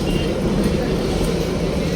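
The Kalka–Shimla toy train at Dharampur railway station gives off a loud, steady low rumble of engine and carriages that fills the whole moment without a break.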